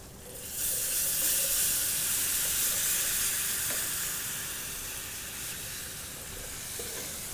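Stock poured into a hot casserole pan sets off a loud, broad steamy sizzle and hiss that swells quickly, then settles into a steady, slightly fading crackle, with no voices.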